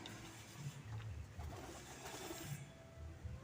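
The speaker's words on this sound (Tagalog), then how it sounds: "may mga kalapati talagang makukulit mga idol" Pigeons coo in a series of soft, low, throaty calls close by, repeating every second or so over a steady background hum.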